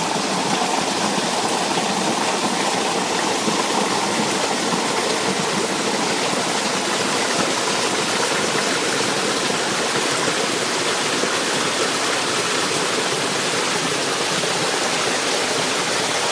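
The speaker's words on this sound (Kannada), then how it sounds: "ನೀರು ಹರಿತಾ ಇರುವಂತಹ ಶಬ್ದ ಕೇಳಿ ಬರ್ತಾ ಇದೆ" A strange rushing sound like flowing water coming from underground in Vijayanagar, Bangalore, heard as a steady, even hiss that continues unbroken and alone.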